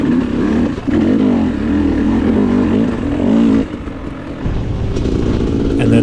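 A KTM 300 dirt bike engine roars and revs continuously during a hare scramble race, close and loud with wavering throttle changes and a brief dip before picking back up.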